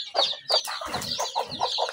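Native chickens cluck repeatedly in short, close bursts, with a rooster-like call mixed in and a low rumble underneath.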